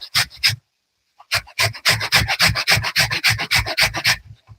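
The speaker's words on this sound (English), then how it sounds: "Okay, so I'll just grate the carrot." Long carrot slices rasped against a grater: a few quick scraping strokes, a pause, then a steady close run of about fifteen rhythmic strokes.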